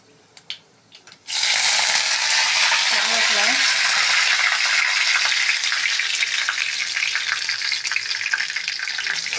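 Mustard seeds and fenugreek dropped into hot sesame oil in a kadai burst into a loud, steady sizzle with crackling pops. The frying starts abruptly after a few quiet taps and keeps going strongly.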